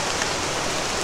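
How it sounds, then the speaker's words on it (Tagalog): Rain pours down steadily at night as an even, hissing wash of drops on surfaces, soft and continuous for about a second with no voices. "umuulan."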